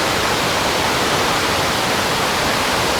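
Water pours steadily down a waterfall at Yan, Kedah, whose water runs reddish; a dense, even roar of rushing water fills the whole stretch with no voices.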